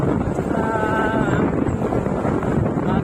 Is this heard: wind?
yes